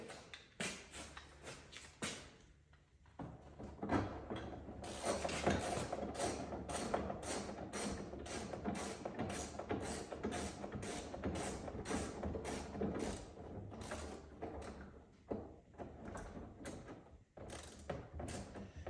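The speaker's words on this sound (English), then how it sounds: "we can do the honors of putting our door handle back in." Close metallic clicks, rattles and handling noises with a stretch of steady mechanical rustle in the middle, as a door handle is fitted back into place.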